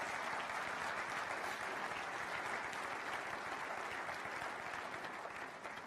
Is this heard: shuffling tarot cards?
no